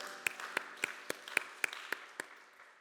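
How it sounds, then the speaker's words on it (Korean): Sparse, scattered clapping from a church congregation at a Sunday young adults' worship service, roughly nine distinct claps spread over a few seconds, fairly faint and thinning out toward the end. "서로를 격려하면서 박수하겠습니다."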